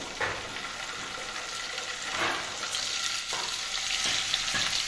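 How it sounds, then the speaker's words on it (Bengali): Paneer pieces fry in hot oil for palak paneer, a steady close sizzle with a few louder crackling bursts as pieces are stirred or turned. "পনিরগুলো আমি ভেজে নিচ্ছি।"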